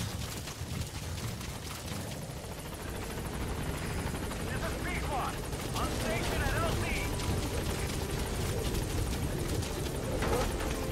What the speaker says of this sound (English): So let's get inside the helicopter and let's leave.